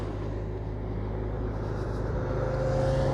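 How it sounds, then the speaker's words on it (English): Road traffic rumbles behind a group of cyclists at a junior cross country cycling race, a steady low engine drone from a car approaching close at the rear with a rising tonal whine. "Watch the traffic behind now."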